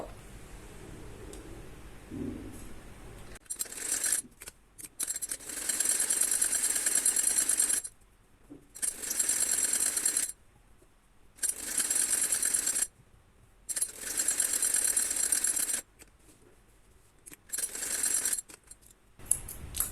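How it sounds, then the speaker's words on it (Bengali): Sewing machine running bursts stitching the side seam of a child's designer top, several loud runs of a few seconds each separated by short pauses, no talking. "তো এখন আমি সাইডের সেলাইটা দিব"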